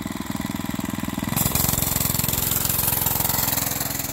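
A Mega Moto 105 mini bike engine runs with a modification fitted, its steady close putter rising in pitch and loudness partway through as the rider gets going.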